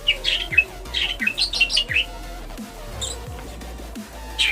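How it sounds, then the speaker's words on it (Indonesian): Lovebirds chirp in quick, high twittering bursts, lively and fairly close, over a low background hum. "Ada lovebird."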